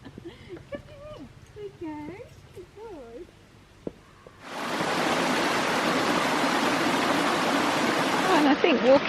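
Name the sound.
stream gurgling beside a path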